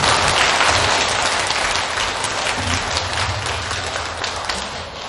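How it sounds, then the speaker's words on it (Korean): Temple worshippers in a main Buddhist dharma hall give a big round of applause to welcome the monk Cheongjeon, a thick wash of many hands clapping together, loud at first and easing slightly as it continues, with no talking over it. "다시 한번 큰 박수 부탁드리겠습니다"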